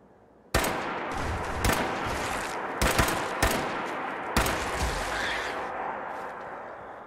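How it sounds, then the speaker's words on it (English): Gunshots in the video game Fallout 4 with the Sim Settlements 2 mod: several loud shots crack in quick, uneven succession, each followed by a long echoing rumble that fills the space between shots. "I hear gunshots."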